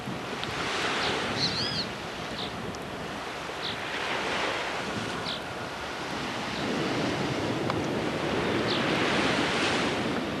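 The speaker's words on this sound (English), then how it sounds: "You can hear the ocean behind me." Ocean surf breaking against the seawall in Guyana, a steady broad roar with repeated wave swells rising and falling, wind buffeting the microphone, and no talk.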